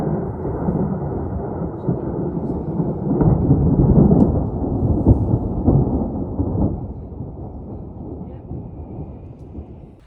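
Thunder from an approaching afternoon storm over Vikos Gorge in Greece's Zagori region rolls in as a long, deep, continuous rumble, swelling in the middle before slowly fading.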